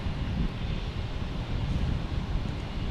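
JetBlue airliner departing Fort Lauderdale International Airport: a broad, steady roar of jet engines at moderate distance, mixed with some wind noise.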